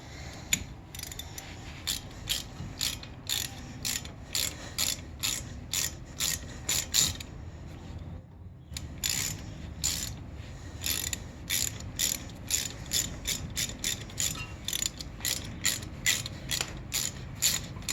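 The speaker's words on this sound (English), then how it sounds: "we'll use our torque wrench to tighten them all the way down" Torque wrench clicking as it tightens brake bolts to 21 foot-pounds on a 2011-2018 Volvo S60 during a brake replacement; a long run of quick, close ratcheting clicks with a brief pause midway, no talking.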